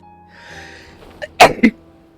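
A single sharp sneeze in Genshin Impact, preceded by a quick inhaling build-up, with a short exhaled tail; clear and close over a quiet background hum.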